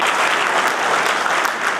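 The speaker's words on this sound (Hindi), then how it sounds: "एक बार तालियां नाल इस चीज़ को हम करांगे" Steady, full applause from an audience at a charitable trust's book release event in Jammu, loud and continuous throughout the short stretch.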